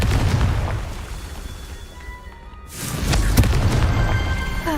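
A Confringo fire spell explodes in the Hogwarts Legacy video game: a steady rumble fades to a brief hush, then a loud, deep blast bursts in and keeps roaring to the end.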